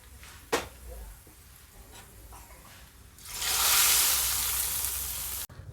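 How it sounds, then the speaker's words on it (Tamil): Hot tempering poured into a pot of South Indian lentil curry (paruppu kulambu), setting off a sudden loud sizzle that holds for a couple of seconds after a few soft kitchen clatters, then cuts off. "இப்போ தால்சம் பண்ணதை பருப்பு குழம்புல ஊற்றிடலாம்"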